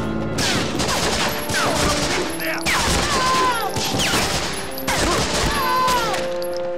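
An MP40 submachine gun fires in Medal of Honor Frontline, with loud close bursts of rapid shots in a chaotic firefight alongside booms and whizzing sounds.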